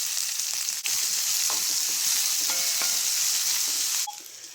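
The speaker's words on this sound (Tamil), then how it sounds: "வெங்காயம் நல்லா வதங்கிருச்சு." Steady, bright sizzling of onions and curry leaves frying in a pan for mutton liver gravy, a continuous crackling hiss with a few faint clinks of a utensil, ending slightly quieter.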